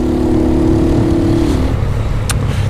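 A 150cc motorcycle engine with a strange noise runs steadily close by, a constant idle drone with a humming tone that fades partway through, and a brief sharp click near the end.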